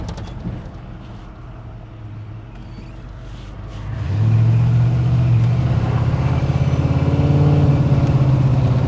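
A 1983 Chevrolet C10 Squarebody pickup engine idles roughly, then at about four seconds surges into a loud, sustained full-throttle rev that drones on steadily, sounding strained and flooded.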